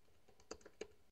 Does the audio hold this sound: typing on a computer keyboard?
yes